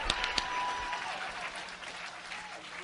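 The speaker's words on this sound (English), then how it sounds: "Come on, clap your hands" An audience at a motivational sermon-style talk claps steadily in a broad, sustained wash, with a few sharper claps standing out near the start and a faint voice underneath.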